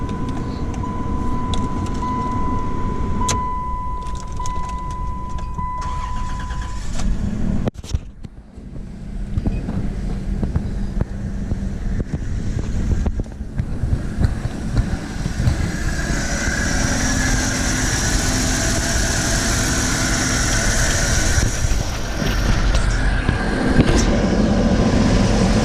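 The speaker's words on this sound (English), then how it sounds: "we'll do a cold start. This thing's been sitting here a couple of days" A 25-year-old car that has sat for a couple of days makes a cold start, and its engine settles into a steady idle. A constant low rumble runs through, with wind buffeting the microphone and a short tone near the start.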